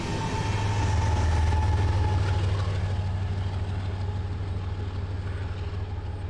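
Freight train of empty hoppers passing in Tenino, a steady loud rumble with a strong low engine drone and metallic rail noise that slowly fades as the cars roll by.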